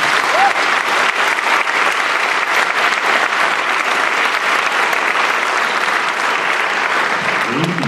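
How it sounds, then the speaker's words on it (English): Sustained audience applause at a school concert for visiting middle school guest performers, dense and even clapping lasting the whole stretch. "Can we please give them another round of applause?"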